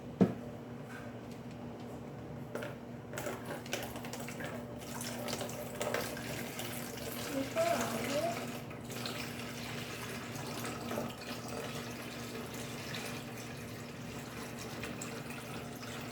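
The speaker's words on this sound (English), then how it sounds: "So to start off, we'll put the water in first." Water is poured into the mixing container of a Luna Bean hand casting kit, a faint, steady trickle that runs quietly for the whole stretch.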